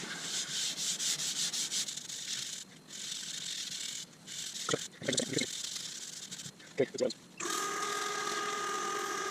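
Continuous rough rubbing of sandpaper against a laburnum wood bowl on a lathe, with short pauses and shifts in tone as the sanding stroke changes.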